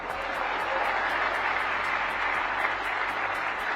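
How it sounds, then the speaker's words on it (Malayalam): Audience applause at an awards ceremony honouring actor Mohanlal, a steady wash of clapping that stays even and fairly loud throughout with no clear pauses. "നിറഞ്ഞ കയ്യടിയോടെ സദസ്സ് ഏറ്റെടുത്തു"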